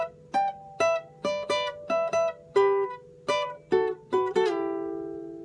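A guitar phrase of plucked single notes, about a dozen distinct attacks in an uneven rhythm, ending on a ringing sustained note; close and clear, no talking.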